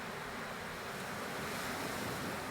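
Ocean surf breaking on a beach, a steady broad wash of waves rolling in continuously with a windy hiss, close and fairly loud, no voices.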